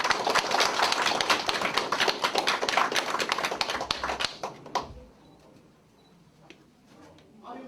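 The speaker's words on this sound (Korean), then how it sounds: "큰 박수로 환영해 주시면 감사하겠습니다" An audience applauds to welcome a candidate at the opening of his election campaign office, dense loud clapping for about four seconds that then cuts off into a quiet room.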